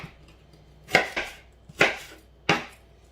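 A knife chopping plums for a galette filling on a board: four or five crisp, separate cuts at an uneven pace, close and clear with no talk.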